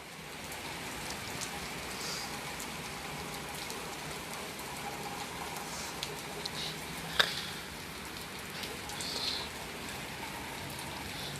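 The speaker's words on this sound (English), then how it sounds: "The rain softened a little bit." Soft, steady rain falls and patters on a surface, with one brief sharp tick partway through.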